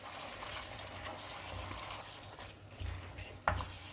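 Chicken korma with its paste being stirred in a hot pan gives a soft, steady sizzle with faint scraping and an occasional light clink of the spoon against metal.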